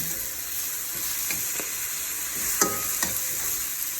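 Spinach wilting in a hot pan, a steady soft sizzle and hiss with a few light clicks of stirring, close and alone without talk.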